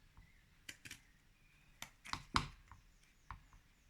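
Several crisp snipping cuts of pinking shears sound close up in an irregular rhythm, sharp clicks of the shears closing through paper with quiet pauses between.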